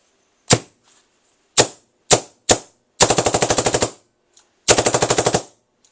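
Sharp shots from a DLX Luxe paintball marker nearby: four single pops, then two rapid strings of about a dozen quick shots each, with short silences between.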